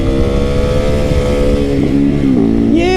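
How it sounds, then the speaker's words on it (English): A motorcycle engine revving hard during a wheelie, a loud close drone that holds steady, then dips and climbs sharply in pitch toward the end as the throttle opens. "but we'll end it with a wheelie."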